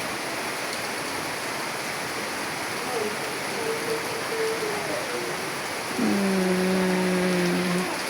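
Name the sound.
heavy rain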